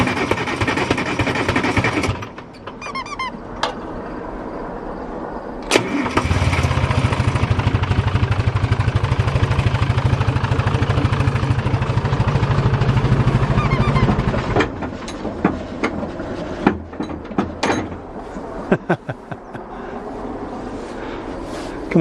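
A 1960s Pettibone machine's engine, running after sitting abandoned for years, idles roughly and loudly up close, surging into a steady heavier drone midway before dropping back to uneven chugging.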